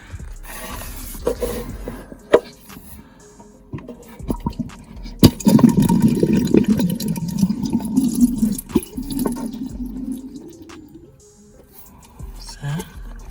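Water gurgles and rushes through a clogged body drain of a Renault Kangoo 2 for several seconds, rising then easing off, with scattered clunks and handling noise around it.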